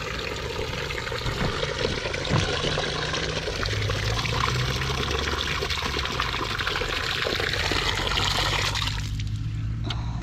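Water gushes steadily from a hose onto a farm plot being planted with corn, a continuous close splashing pour that shifts in tone near the end.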